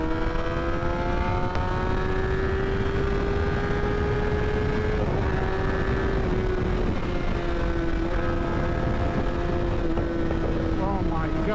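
A Kawasaki Ninja ZX10R sport motorcycle engine drones steadily and loudly throughout, its pitch climbing and holding as it revs, with heavy wind noise buffeting the microphone and no speech.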